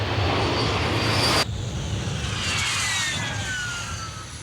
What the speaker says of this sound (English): They're literally blowing down the track by the thrust of the jet engine.